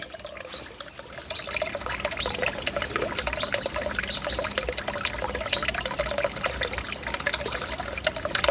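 Steady splashing and trickling of water flowing from a small solar-powered fountain pump, a continuous close-up stream that starts after a brief quieter moment and stays level throughout, no voices.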